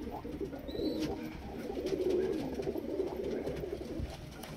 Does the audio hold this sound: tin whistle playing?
no